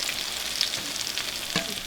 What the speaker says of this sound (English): I'm just going to finish frying these little suckers up, and Russ, you will be up.